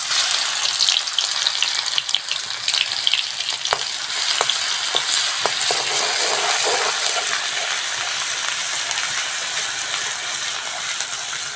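Garlic paste fries in hot oil with a dense, steady sizzle, broken by a few clicks and scrapes of stirring, close and fairly loud throughout.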